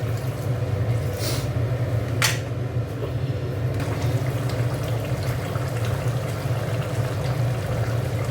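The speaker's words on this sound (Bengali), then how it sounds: "একটু জল দিয়ে দিচ্ছি।" Water is poured into a cauliflower and potato curry in a pot, making a steady close liquid wash with a couple of sharp knocks early on and no talking.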